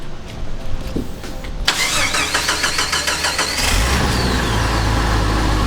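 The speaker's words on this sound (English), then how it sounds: "turn on the Jeep, give it some rips, we'll see how it's changed in sound" Jeep YJ fitted with a new OEM-style exhaust muffler cranking over and firing up, settling into a steady, fairly muted idle close by, with no voices.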